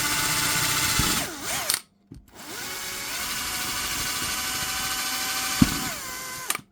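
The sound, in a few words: electric drill drilling holes in steel plate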